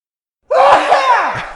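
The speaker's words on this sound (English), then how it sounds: "I think I have to sneeze." A single short sneeze burst after silence, close and loud, trailing off into a breathy, voiced exhale.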